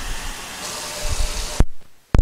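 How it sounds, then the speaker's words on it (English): Cold water pouring from a tap into a jar of tomato seeds, a steady, fairly loud gushing fill that cuts off abruptly, followed by a brief silence and then a short splash or clunk near the end. "I'm going to just add cold water to the jar."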